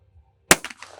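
A Remington shotgun fires a single loud, close blast during a team shootoff, followed by a short echoing tail and faint background noise.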